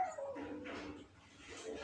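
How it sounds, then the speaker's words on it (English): A dog whimpering and yipping close by, a continuous whiny, nasal vocalisation with a few rising yelps, fairly loud and alone. "If you listen a weird sound or a funny sound, it is my dog."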